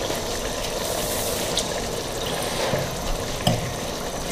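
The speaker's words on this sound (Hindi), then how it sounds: "ऐसे हिला के थोड़ा सा हम पानी डाल देंगे" Mutton kofta curry simmers and sizzles steadily in a pan after a splash of water is added, a continuous close frying hiss with faint stirring clinks.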